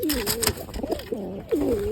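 Pigeons coo close by in soft, throaty rolling calls, several overlapping phrases with faint background clatter.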